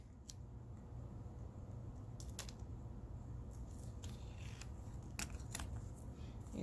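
Scissors snip out two pieces for a handmade DIY wallet, giving a series of crisp, close cuts spaced irregularly over a low steady hum, with no voice.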